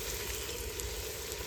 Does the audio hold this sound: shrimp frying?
yes